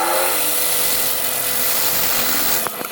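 A drill grinds loudly and continuously, enlarging a hole to 8.5 mm in a scrap camshaft, a harsh, broadband whirring that runs the whole time and falters near the end.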